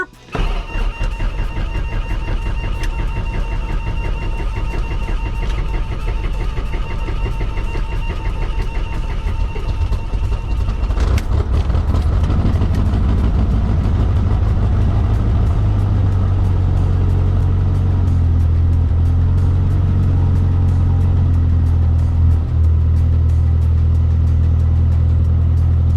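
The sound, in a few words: Mooney M20E airplane engine starting after priming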